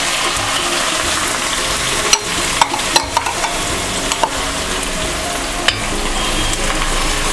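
Garlic and onion sizzle loudly and steadily in hot oil for Punjabi chole, a dense close frying hiss with a few sharp pops and clinks from a utensil.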